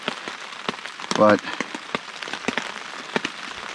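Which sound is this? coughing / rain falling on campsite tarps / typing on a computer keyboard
rain falling on campsite tarps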